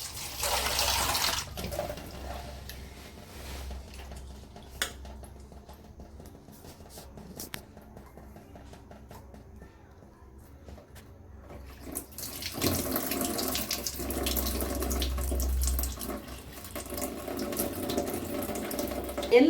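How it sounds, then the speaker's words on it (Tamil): Tap water runs into a sink as sesame seeds are washed and rinsed for ragi laddu, steady splashing near the start and again louder toward the end with quieter handling in between. "இந்த மாதிரி தண்ணி நல்லா வெடிகட்டிட்டு ஒரு 2 வாட்டி நல்லா அலசிக்கலாங்கம்மா"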